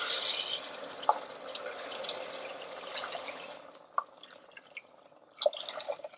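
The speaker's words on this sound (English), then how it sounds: "I'm gonna add around 3 cups of water into this." Water poured into an Instant Pot holding fried moong dal and rice, with a close trickling, splashing pour that fades, followed by a few soft drips and clinks.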